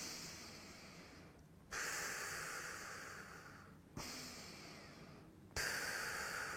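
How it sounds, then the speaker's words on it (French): Slow, calm belly breathing demonstrated during a Wim Hof method lesson: long airy inhales and exhales, three breaths in steady rhythm, close and quiet, with no talking. "une magnifique respiration ventrale, apaisante, calmante"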